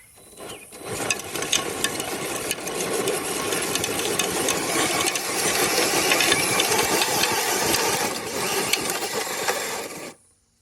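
Small RC pulling truck's motor whines steadily for about nine seconds while dragging a sled weighted with four bricks, a dense, buzzy drone that swells slightly mid-run and cuts off abruptly at the end.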